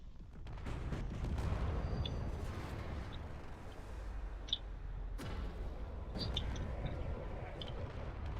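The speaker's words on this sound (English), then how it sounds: "at this range it's all just railgun" Railgun fire in a space battle game, a continuous rumbling barrage of distant heavy shots with scattered sharper cracks and metallic pings, moderately quiet and sustained throughout.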